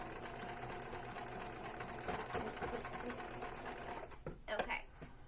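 Sewing machine stitching fabric for a homemade face mask, a close, fast, even mechanical whirr that runs steadily and then stops, followed by a few clicks and handling sounds.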